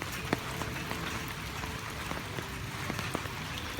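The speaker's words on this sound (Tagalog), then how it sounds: "Wrong timing. It's raining." Steady rain falls outdoors along a muddy descending trail, a soft, even patter with scattered sharper drops striking nearby surfaces throughout, with no one talking.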